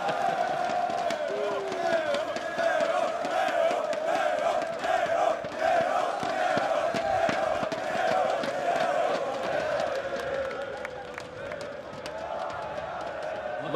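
Cheering crowd in a packed arena at a Counter-Strike major esports tournament in Antwerp, a steady, loud roar of many voices with whoops, running under continuous commentator talk throughout.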